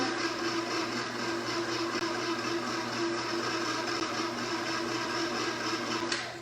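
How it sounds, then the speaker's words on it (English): A steady mechanical whir runs throughout, continuous and fairly loud with a constant hum and a few brief clicks, like a mixer working cake batter for a chocolate chip cookie cake as flour is stirred in; no talking. "I'll add that in, give it a stir."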